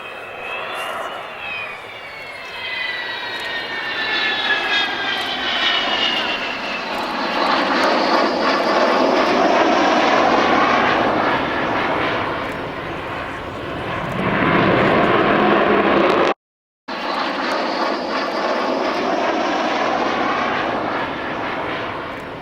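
Avro Vulcan XH558 delta-wing bomber flying a display at Dunsfold Wings & Wheels, its jet engines roaring loud and sustained with a rising whistling howl as it sweeps back toward the crowd, cut by a brief dropout near the end.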